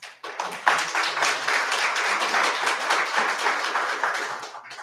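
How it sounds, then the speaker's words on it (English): An audience in a city commission meeting room claps steadily for several seconds, a dense patter that swells quickly and then fades, heard alone without talk. "Can we avoid any clapping, hollering, cheering?"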